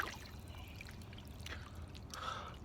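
Water drips and trickles softly as a person dips into cold water, with quiet splashing and a faint gasp, fairly close.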